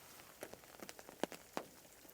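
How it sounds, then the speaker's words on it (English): Sparse raindrops tap irregularly on a hammock tarp, a handful of quiet, distinct pats over faint background hiss. "hearing the rain pitter-pattering on the roof"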